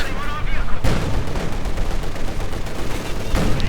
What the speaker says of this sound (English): looks like the German mortar is finally getting some usage